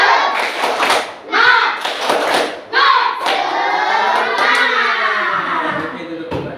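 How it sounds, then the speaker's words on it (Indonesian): A class of children does the "tepuk semangat" spirit clap together, with loud bursts of rhythmic hand clapping. Young voices chant along, and a sustained stretch of voices and clapping follows. "Tepuk semangat."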